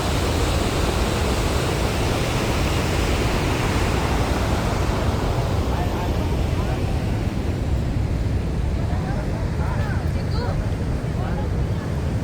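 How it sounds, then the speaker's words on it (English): Niagara Falls roars in a steady, loud, broadband rush of falling water heard from an observation point in the state park, continuous throughout with wind buffeting the microphone. "that's a big waterfall right there"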